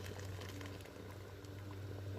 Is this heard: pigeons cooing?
no